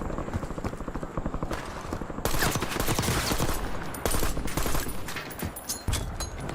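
Dense rapid gunfire fills a video game firefight in a Warzone Resurgence match. Bursts of automatic fire rattle almost continuously and loudly, with heavier volleys and a faint rotor-like drone beneath.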